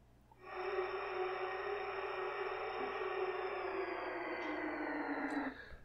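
A VideoPad video editor teleport sound effect swells in with a breathy, shimmering whoosh and a high sustained tone that slowly glides downward, holding steady for about five seconds before cutting out, quiet and alone.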